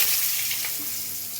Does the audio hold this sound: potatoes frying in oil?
yes